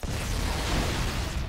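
A frag grenade detonates in Halo: Combat Evolved, a loud, sustained blast with dense low rumble filling the whole moment without any talk.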